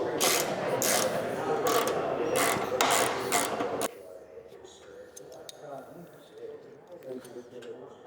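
A ratchet or wrench works bolts loose on a carbon fiber fuel tank cover of a Harley-Davidson Low Rider S/ST, clicking mechanically at close range, then quieter metallic taps and rattles.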